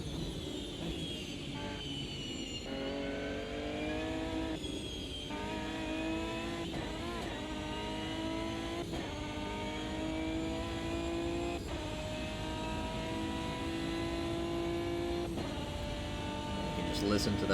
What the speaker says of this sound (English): Listen to that beautiful engine roaring down the straight.